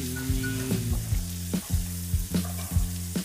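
Onion sautéing in a pan for Thai rice, a steady close sizzle broken by repeated sharp knocks and scrapes of stirring, with no voices.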